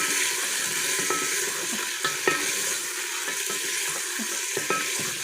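Mutton for a Wazwan-style yakhni fries lightly in a pan with a steady sizzle, while a spoon scrapes and taps through it in irregular strokes, close and continuous, with no voices.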